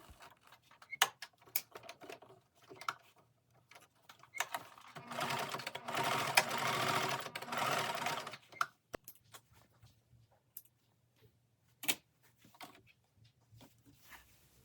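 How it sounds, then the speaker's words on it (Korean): A sewing machine stitches along the marked line of butterfly-pleated curtain fabric, its motor whirring in a steady burst of a few seconds amid quieter clicks and handling noises. "위쪽에 바느질 해놨던 선을 따라서 여기를 재봉을 해줍니다"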